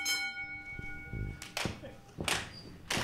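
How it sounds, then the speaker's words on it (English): A boxing bell for a True Grit event rings once at the start, its metallic tone fading over about a second, followed by scattered thuds and knocks nearby. "Ring the bell!"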